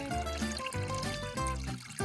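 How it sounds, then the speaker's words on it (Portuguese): Water pours steadily into a turtle terrarium tank being filled for two red-eared slider turtles, a continuous close splashing and trickling with tonal, music-like layers over it. "Agora precisamos de água. Muita água. Enchendo o tanque."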